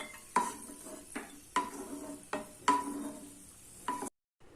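Raisins frying in ghee: soft scraping and clinking strokes of a spoon in the pan, with a faint sizzle underneath.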